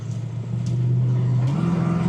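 A 1965 Ford Thunderbird engine idles steadily at close range, a smooth low hum that rises slightly in pitch partway through as it warms, with no talk over it.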